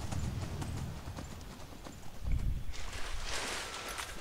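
Steady clip-clop of horse hooves at a brisk pace in the video game Skyrim, close and fairly loud, with faint ambient background.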